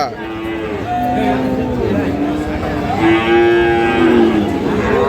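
A Sahiwal cow lowing at a busy village cattle market, with several long, loud moos and a crowd murmuring behind.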